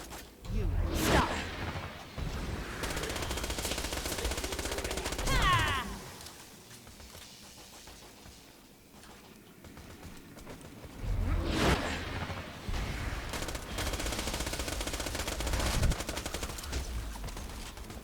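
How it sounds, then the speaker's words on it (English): Hyperion SMG fire in Borderlands gameplay, loud rapid bursts of automatic shots with whooshing effects, arriving in two main volleys separated by a quieter stretch, with game voices mixed in. "I'll keep using this Hyperion SMG."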